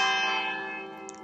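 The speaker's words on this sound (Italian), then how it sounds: "Adesso parte anche la campana." A church bell rings once near by, a bright metallic strike with rich overtones that hums and slowly decays over about a second.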